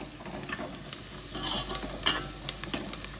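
Leafy greens tossed into a hot oil tempering in a pan sizzle and crackle softly while being stirred, with occasional scraping clicks, fairly quiet and close.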